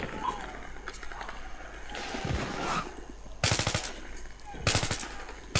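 Gunfire in Battlefield 3, two short loud bursts of rapid automatic shots cutting through a noisy backdrop of battle sounds and movement.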